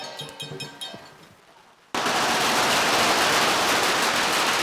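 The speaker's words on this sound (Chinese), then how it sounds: "爆竹声声响，" Firecrackers exploding at a Hakka new year celebration in a village, a rapid string of sharp cracks that fades, then a sudden loud dense crackling barrage.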